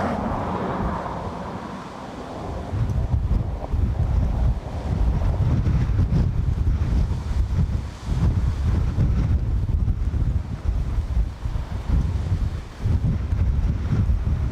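Strong, gusting wind at Dublin Airport roars and buffets the microphone in a loud, continuous rumble, swelling and dipping with the gusts, with no voices over it.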